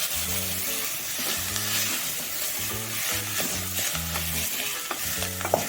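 Mixed vegetables for a traditional Sankranti bhogi bhaji being stirred with masala in a pan, a steady sizzle under repeated scraping strokes of a spoon, close and continuous, with a low tonal hum in the background.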